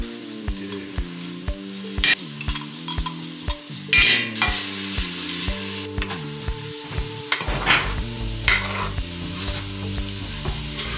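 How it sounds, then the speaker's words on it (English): Chopped vegetables sizzle in a soup pot while a spoon scrapes and stirs, with rhythmic clicks and steady frying hiss under a backing music track. "Veggies are all in the pot. Get that nice and toasted up."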